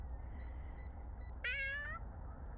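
A single clear cat meow from a cat in the City Supermarket Simulator video game, lasting about half a second over a steady low hum of game ambience.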